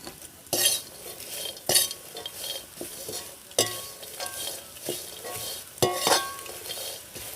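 Dry fruits and raisins stir-fried in a pan with Kashmiri chilli powder, chaat masala and turmeric, with a scraping spatula sounding in sharp intermittent strokes over a soft, steady background sizzle, with no voices.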